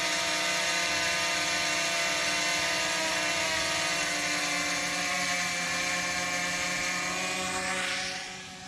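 A camera drone hovers and flies near a highway construction site in rural Quezon, its rotors giving a loud, steady buzzing whine with layered tones that drifts slightly in pitch and fades a little at the end.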